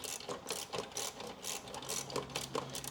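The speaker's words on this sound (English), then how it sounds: "you can just get your 12mm socket on there just to loosen that off" A 12mm socket ratchet loosens a fairing bolt on a Honda CBR1000RR-R SP Fireblade, giving rapid clicking pawl ratchets in close, steady bursts over a faint low hum.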